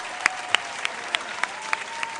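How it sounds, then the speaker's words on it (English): A small school audience at a quiz competition gives a round of applause, heard as a steady wash of clapping with a few sharper claps standing out at regular intervals; no one speaks. "A round of applause, please. A round of applause."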